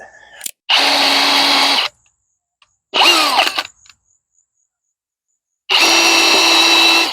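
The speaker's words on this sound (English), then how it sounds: "drilling the holes" A power drill whirs loudly in three separate bursts, each a second or so long, boring holes into a log with quiet pauses between.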